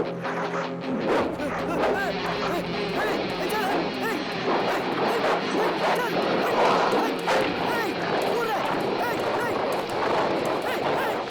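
Dog barking during a chaotic scene: sharp yips and barks recur across the clip, mixed into dense shouting voices and background noise rather than standing alone.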